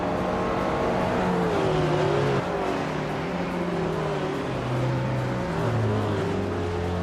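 A Renault 5 Turbo in a racing video game, its engine droning and shifting pitch with a wavering rev among the pack of other cars, loud and continuous. No one speaks.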